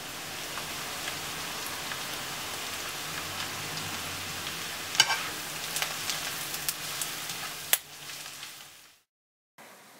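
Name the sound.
onions frying in butter until brown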